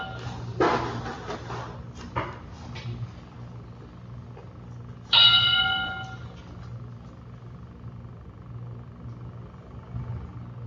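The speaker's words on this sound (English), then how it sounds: "Bell." A single bright bell ding rings out and slowly fades during a home swim-training workout, over a low background hum with a few soft knocks earlier.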